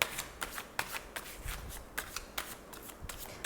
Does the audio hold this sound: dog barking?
no